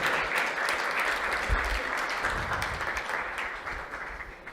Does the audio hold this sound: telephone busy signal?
no